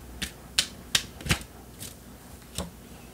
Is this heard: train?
no